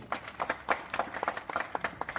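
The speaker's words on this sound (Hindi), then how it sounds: "जोरदार ताली बजाइए" An audience at a deep yajna ceremony during a Jyoti Kalash Rath Yatra in Saharanpur claps in short, uneven bursts, the hand strikes sharp and close but fairly soft overall.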